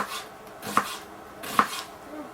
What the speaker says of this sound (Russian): Режем лук,